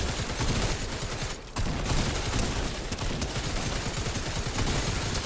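Shotgun blasts in a Spider-Man versus Predator armies video game battle, a dense, continuous barrage of loud gunfire with a brief dip before the shooting resumes at full intensity.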